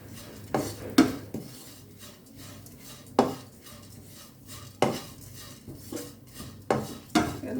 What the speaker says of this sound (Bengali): এখন হালকা আস্তে একটু করে ভেজে নেব।